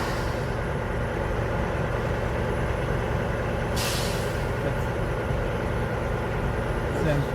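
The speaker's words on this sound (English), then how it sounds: "Them tractor releasing its brakes and stuff." A tractor truck parked on a bridge releases its air brakes in a sharp hissing burst midway, heard over a steady loud rumble of idling engine and traffic noise.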